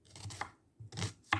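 Onions being chopped with a knife on a board, heard as a few sharp, close knocks in quick uneven bursts with short pauses between them.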